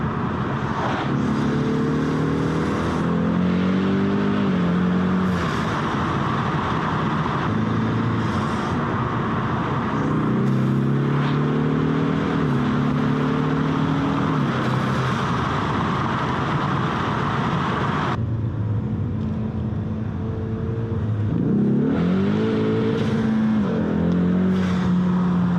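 A 2020 Ford Mustang EcoBoost HPP heard from inside while being driven: the turbocharged four-cylinder repeatedly climbs through revs and drops on gear changes, a steady close drone with rising sweeps and a brief lift-off near the end.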